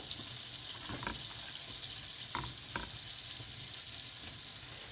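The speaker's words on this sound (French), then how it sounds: "Mon beurre il est en train de bien fondre." Small, roughly cut pieces of bread fry in melted butter in a pan, giving a steady soft sizzle with a few faint stirring scrapes and taps, no voices.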